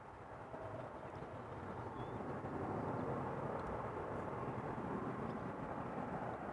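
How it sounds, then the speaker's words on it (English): A KLM Boeing 737-800 airliner arriving from Geneva at Amsterdam Schiphol, a steady broadband jet roar at moderate distance that swells slightly and holds, with light wind noise and no talk. "KLM 737-800 arriving from Geneva over here"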